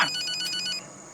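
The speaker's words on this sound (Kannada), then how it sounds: "ಯಾರ್ದ ಫೋನ್ ಹೊಡ್ಕೊಳ್ತೈತೆ ನೋಡ್ರಲ್ಲ ಗುಬಾಲ್ಗಳ" A telephone rings with a rapid electronic warbling tone, moderately loud, then cuts off abruptly partway through, leaving a quiet room.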